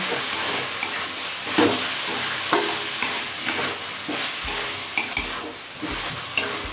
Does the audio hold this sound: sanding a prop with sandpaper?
no